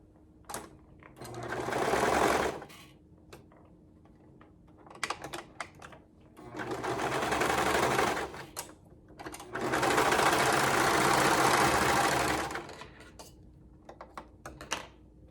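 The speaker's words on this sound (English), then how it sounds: "we're going to sew the short edge with a 1/4 inch seam allowance" A sewing machine stitches a short edge of fabric with a quarter-inch seam allowance. Three loud, close bursts of steady whirring are broken by pauses filled with small clicks and handling noises. Nobody speaks.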